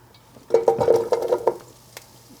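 Red onion tipped into hot oil in a pan, a burst of bright sizzling and stirring clatter for about a second before settling back to quiet.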